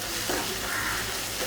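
Spices are stirred into a sizzling pan for creamy chicken, giving a close, steady hiss with faint scraping from the spoon in a brief burst, and no one speaks.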